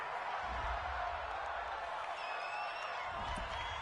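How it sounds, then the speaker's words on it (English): Home crowd in a Madden 20 American football video game, a steady broad roar of cheering that holds throughout at a moderate, somewhat distant level without rising or falling much. "This home crowd, they're happy with that call."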